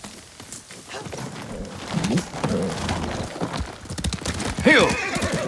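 A horse in the game Ghost of Tsushima clip-clops along at a walk, with a steady run of hoof beats and a loud whinny near the end. A voice speaks over part of it.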